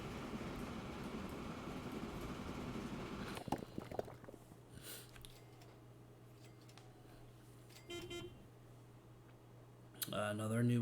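A train running in the Transport Fever 2 game, a low steady rumble and hum with scattered clicks and a louder burst near the end.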